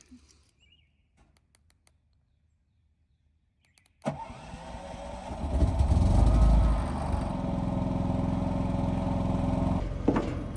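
A Predator 5000 generator sits inside a shed and is started by remote: faint clicks, then the engine catches abruptly and settles into a loud, steady, droning run nearby.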